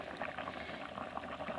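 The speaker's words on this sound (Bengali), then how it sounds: "চিকেন ফুটে চলেছে।" Country chicken curry bubbling in a pot over a wood-fired clay stove, a quiet continuous simmer of small popping bubbles, steady and close, with no voices.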